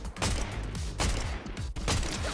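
Rapid gunfire in a ranked shooter video game, dense bursts of shots crackling in quick succession with a few sharper peaks, loud and close, with no talking.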